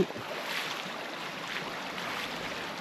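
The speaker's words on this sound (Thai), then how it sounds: "สายน้ำก็จะไหล อันนี้จะลงไหลลงสู่ลำห้วยย้อนะ แล้วก็ไหลลงสู่ ลำน้ำโขง" Water runs over a concrete surface and down into a creek that feeds the Mekong, a steady close rushing hiss of flow with no other sounds standing out.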